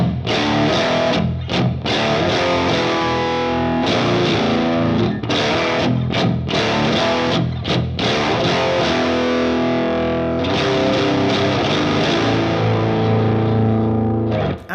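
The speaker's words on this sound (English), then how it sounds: "This is a crunchy sort of thing on the bridge humbucker through the high power model in the fractal." A Bass VI with a bridge humbucker played through a Fractal high power amp model with crunchy distortion, loud sustained chords and riffs with brief stops, played alone without talk.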